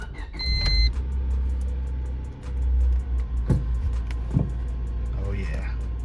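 Honda Civic engine cranking and firing up after its battery is reconnected, a brief starter whine followed by a low idle with a couple of rev bursts, close by.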